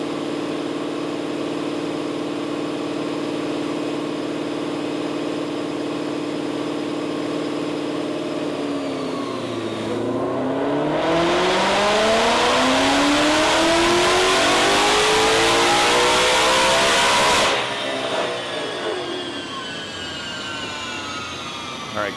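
Tuned 2020 Ford Shelby GT500 with an MM800R tune screaming through a dyno pull, its loud engine note climbing steadily in pitch toward about 8,300 rpm, then cutting off abruptly and dropping back to a lower drone.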